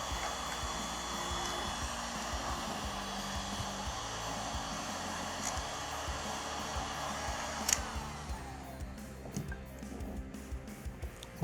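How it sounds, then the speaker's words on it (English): A heat gun blows steadily and loudly while heating the front plate screw on an FN SCAR rifle, then cuts off, leaving a few faint clicks and handling taps. "I'm going to apply heat with the heat gun to this side."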